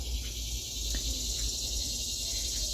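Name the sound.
cicadas buzzing in backyard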